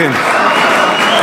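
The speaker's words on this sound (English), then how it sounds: "It's like the crowd has awoken." A loud crowd roars in the arena during a women's wrestling match, a dense continuous cheer at close range with a commentator's voice over it.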